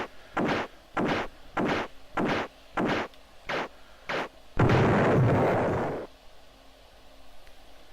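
Asteroid being blown apart in Elite on the Commodore Amiga: seven short, evenly spaced blasts, followed by a longer, louder explosion that rumbles for about a second and a half before cutting off.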